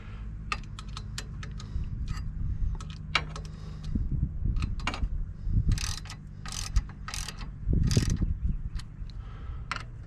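Bolts on an HMF Swamp Series XL snorkel are tightened on a 2019 Suzuki King Quad 750 ATV with a ratchet, giving rapid metallic clicking and occasional clanks, close up over a low steady hum.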